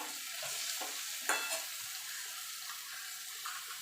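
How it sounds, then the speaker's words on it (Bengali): Pumpkin and bitter gourd fry with poppy seeds is turned in a pan, a soft, fairly faint sizzle with a few light scraping stirs and one brief clink. "এবার পোস্তটা দিয়ে মিনিট খানিক একটুখানি নাড়াচাড়া করে নেব।"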